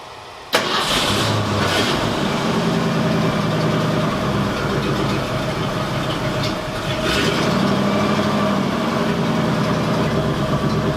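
A 1972 Ford F100 Sport Custom truck engine fires up abruptly and settles into a steady, loud, rumbling run, with a slight rise in revs partway through, heard up close with no talking.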